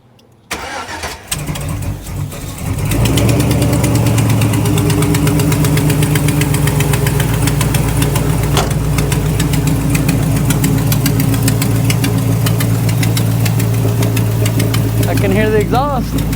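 An LS-swapped Chevrolet Cutlass with open headers cranks over and fires, then settles into a loud, steady, lumpy idle close by, the exhaust rumbling continuously.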